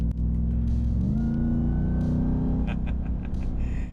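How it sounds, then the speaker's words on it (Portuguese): A Ram SRT TRX pickup with a supercharged V8 driving on a road in sport mode, with a steady engine drone and a rising whine as it accelerates, fairly close and without talk. "Nesta estrada, rapidamente, o som do Supercharger aparece, se faz presente."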